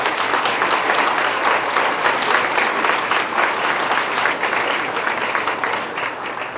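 A crowd applauds award winners at a high school academic awards ceremony for 10th and 11th graders, steady dense clapping filling the room for the whole stretch at an even, sustained level.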